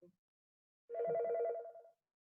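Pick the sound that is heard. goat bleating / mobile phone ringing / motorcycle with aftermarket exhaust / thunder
mobile phone ringing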